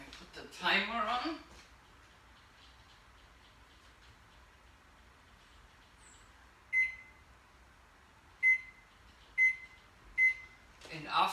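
A kitchen timer gives four short, fairly quiet electronic beeps spaced about a second apart, set while plant-based snicker bars chill in the freezer. A voice talks briefly at the start and end.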